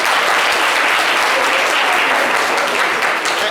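Steady, dense applause from a live audience greeting a volunteer called up on stage at a comedy show, loud and continuous without a break, with no voices standing out above the clapping.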